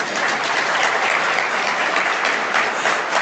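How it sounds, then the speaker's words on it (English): Dense, loud round of applause from the audience at a 2024 Namibian oil and gas conference, continuous close clapping with no voices over it. "I expected you to at least give me a round of applause."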